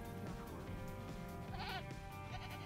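Goats in a goat enclosure in the video game Jurassic World Evolution give a short wavering bleat over a constant dense game soundtrack hum.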